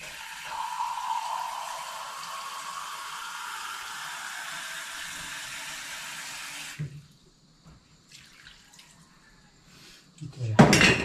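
Water runs steadily for several seconds while cooking, a hissing pour that stops abruptly, followed by quiet clatter and a louder knock at the end.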